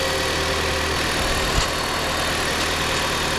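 A 2016 Jeep Patriot engine idles steadily up close, a low continuous hum with a faint rattle and a brief knock partway through.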